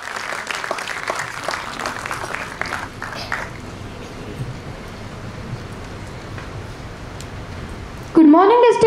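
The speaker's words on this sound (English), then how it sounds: "Please, big round of applause for him." An audience at a school Independence Day celebration applauds a student speaker. Clapping is loudest at first, then tapers into a softer scattering. A loud close sound cuts in abruptly at the very end.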